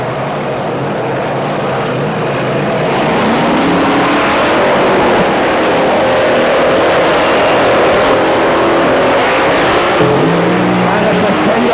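Drag race cars launching off the start line at a 1995 Shootout at Avon Park, a loud, dense engine roar that builds and sustains, with a commentator talking over it throughout.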